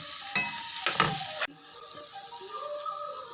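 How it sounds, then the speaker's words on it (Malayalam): Kerala-style tuna fish fry being stirred with masala in a hot pan: scraping strokes over a steady close sizzle, a few sharp spoon clinks, then a calmer frying hiss. "നമുക്ക് ആ മസാലയും ഈ മീനും എല്ലാം ആയിട്ടൊന്ന് യോജിപ്പിച്ചേക്കാം"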